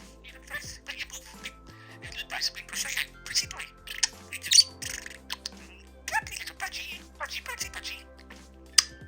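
A pet budgie gives repeated short squawks and chirps in quick irregular bursts, close and fairly loud, while a person talks softly to it.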